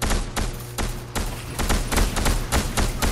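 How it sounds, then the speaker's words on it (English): Rapid bursts of video game gunfire, loud heavy shots repeating in quick succession with a few brief pauses, dense and close with no talk over them. "That gunshot's really close."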